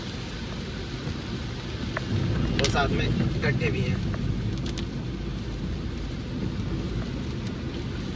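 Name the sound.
rain and road spray on a highway during a drive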